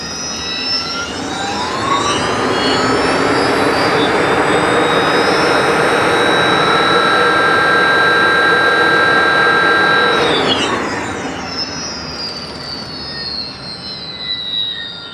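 A rebuilt vehicle engine revs hard up through the gears, a loud, close, rising whine holding steady at high revs before easing off and settling lower near the end.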